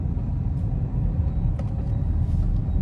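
Steady low engine and road rumble from inside a moving car carrying a family home, continuous and fairly loud with no talk over it.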